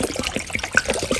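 Water splashes and trickles into a pot holding a chicken carcass for stock, a short, close, uneven pour.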